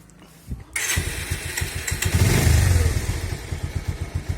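A Bajaj Pulsar 150 motorcycle starts up after a brief click and then idles close by, its engine thumping in an even, steady beat that swells briefly in the middle.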